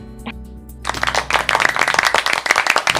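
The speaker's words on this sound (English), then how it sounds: "Literally applause." Crowd applause honoring frontline workers during the quarantine: many hands clapping steadily and fairly loud, starting abruptly after a brief quiet lead-in with a faint tonal hum, then continuing densely to the end.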